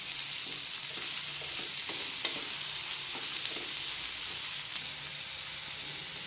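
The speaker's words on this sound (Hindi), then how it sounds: "अब हम इसमें कटे हुए बारीक प्याज डालेंगे। और इसको अच्छी तरह से मिला लेंगे।" Finely chopped onions being stirred into okra already fried in a pan for okra masala, giving a steady bright sizzle of frying with soft scraping stirs throughout, close and continuous without talk.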